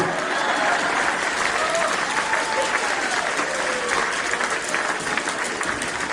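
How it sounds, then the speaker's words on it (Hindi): Steady, dense applause from a large audience at a comic Hindi poetry recital, filling the room continuously at a loud, even level with no speech over it. "ताली बजाओ, सांस लेना है।"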